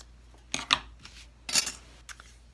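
Material being cut with scissors while making a Dollar Tree jewelry display case: a few quiet, crisp snips in short bursts against a hushed indoor background.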